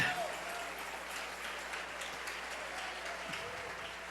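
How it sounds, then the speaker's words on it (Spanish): A church congregation applauds steadily, a dense even wash of clapping at moderate distance, with faint voices under it. "Dale ese aplauso al Rey."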